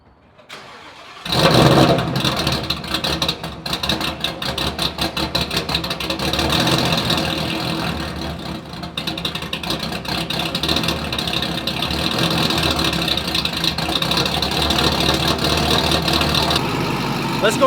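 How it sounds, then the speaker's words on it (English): A loud car engine cranks and catches in a parking garage, then settles into a rough, choppy idle that rumbles steadily for many seconds, close and dominant. "let's go ahead and start this thing up in our parking garage"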